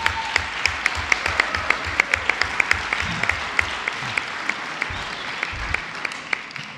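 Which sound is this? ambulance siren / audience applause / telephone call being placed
audience applause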